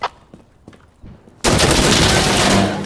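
Gunfire in the game Insurgency: Sandstorm: a few scattered sharp clicks and thumps, then a loud dense burst of rapid shots close by that sustains to the end.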